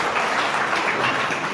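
An audience at a village talent award ceremony claps in a brief, steady burst of loud applause from many hands.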